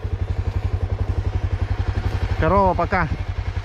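A Honda NX enduro motorcycle's engine chugs steadily during a ride, a rapid, even low thump throughout, with a short spoken exclamation near the end.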